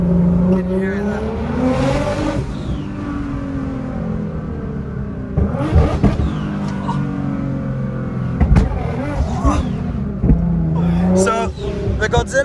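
A 700hp Nissan GTR, a 2012 model, revs loudly and close, its engine note rising and falling through repeated swells with sharp bursts, while people talk over it.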